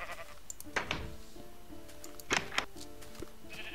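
Sheep in the Minecraft video game bleat twice in short wavering calls, then again in a quick pair a moment later, heard moderately loud over quiet game ambience.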